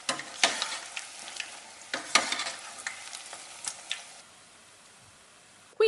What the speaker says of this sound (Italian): si prende l'impasto con le mani e si mette nell'olio